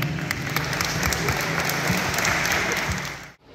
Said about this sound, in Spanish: ahí nos aplauden o gritan si quieren